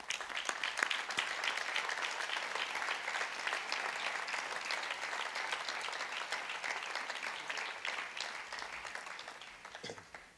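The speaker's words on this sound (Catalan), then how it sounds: "que el primer aplaudiment de la nit vagi destinat a la comissió de festes." Crowd applauding at the opening speech of the Festa Major in Móra d'Ebre, dense sustained clapping from a large audience that tapers off at the end.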